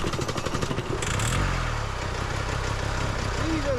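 A battered van engine cranks and catches after failing to start in Arctic cold, then settles into a rough, uneven idle with a rattling clatter close by.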